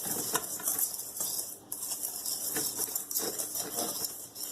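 Dry ingredients for lemon bars, including cream of tartar and baking powder, are stirred in a bowl with a continuous brisk scraping and tapping of a utensil, close and steady with a brief pause midway.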